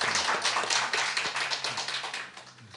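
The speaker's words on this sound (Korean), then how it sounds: "우리 뜨거운 박수로 이렇게 환영하겠습니다." A church congregation claps warmly to welcome newcomers: sustained, dense applause from many hands with a loose pulsing rhythm, easing slightly toward the end.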